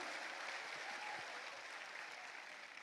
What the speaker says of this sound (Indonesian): Kasih tepuk tangan dulu untuk our dear friend.